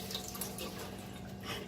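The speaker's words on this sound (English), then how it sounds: "Now, I'll rinse my hands real quick." Tap water running steadily into a sink while hands are rinsed in a kitchen, a short continuous splashing hiss with no talk.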